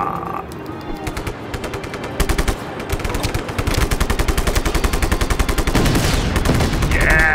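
Dense, rapid automatic gunfire from Just Cause 3 rattles on continuously at close range for several seconds, with sustained bursts and no talking over it.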